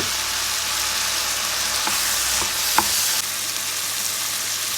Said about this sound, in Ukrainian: Смажимо нарізані наші гриби, додаємо цибулю.